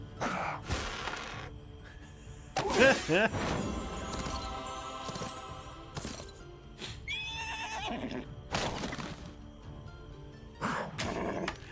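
Horses whinny and neigh as in-game sound effects in the fantasy strategy game Heroes of Might and Magic Olden Era, with loud, shrill calls repeating during a battle over music and someone speaking.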